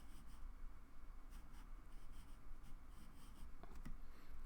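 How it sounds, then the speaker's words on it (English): A pencil draws short lines on paper, sketching a cylinder shape, with faint, close scratchy strokes in quick repeated bursts and no talking. "I draw a short cylinder."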